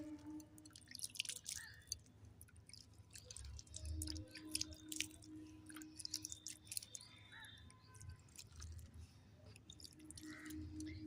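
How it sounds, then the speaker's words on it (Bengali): Water poured gently over a newly planted ornamental-leaf plant gives soft, scattered drips and small splashes, close by and fairly quiet, spread over several seconds with no talking. "এবার গাছটায় হালকা হালকা করে জল দিয়ে দেব।"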